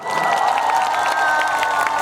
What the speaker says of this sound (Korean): 그렇다면 큰 박수 부탁드리겠습니다.